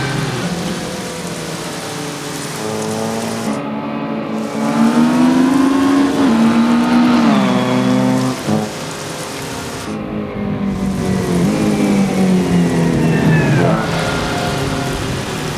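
Race cars driving at Silverstone in the rain, engines droning and rising steadily in pitch as they accelerate through the S-curves, loud and close with a constant wash of spray, no talk.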